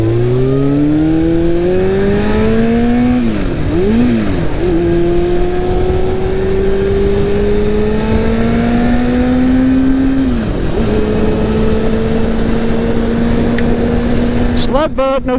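A car accelerates onto a highway, its engine note rising and falling through gear changes in a steady, loud drone inside the cabin, with people talking over it.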